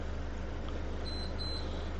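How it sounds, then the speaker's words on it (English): A wheel balancing machine at a mobile tyre fitting job gives two short electronic beeps over a steady mechanical hum, close by and clear, with no talking. "it's going to show you on the machine, when you hear the beep,"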